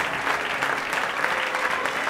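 A worshipping congregation applauds in one dense, steady burst of clapping through the whole short stretch, loud and close, with no voices rising above it.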